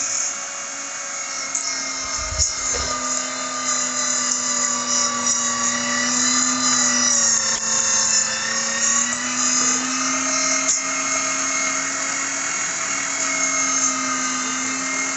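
An electric meat grinder working meat for jerky runs with a steady, loud motor whine and hum throughout, pitch wavering slightly as it loads, with a faint thump early on.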